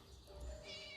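A cat meowing in a video game, one faint drawn-out meow over a soft background hum, with no talking.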